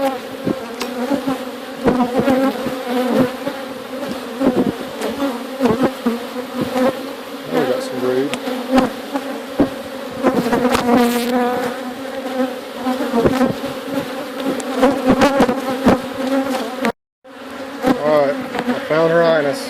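Honey bees swarm around an open backyard hive during an inspection, a dense steady buzz of many wings close by that holds for the whole stretch and breaks off for a moment before resuming.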